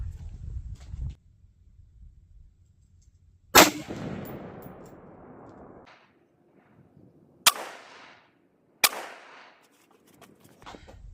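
Rifle shots fired at a target through a CVLIFE EagleBlaze 5-25x56 scope with a mil-spec trigger and cheap ammunition: three sharp, loud cracks spaced a few seconds apart, each trailing a brief echo.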